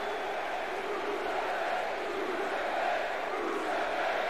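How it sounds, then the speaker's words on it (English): Crowd noise from a WWE 2K19 wrestling video game fills the arena with a steady, dense roar of cheering and shouting that stays loud and unbroken throughout. "The crowd is going nuts."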